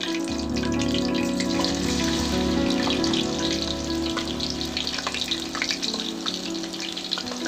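Spring potatoes hiss and sizzle steadily as they fry in hot oil, a dense continuous crackle with scattered pops, close and fairly loud throughout.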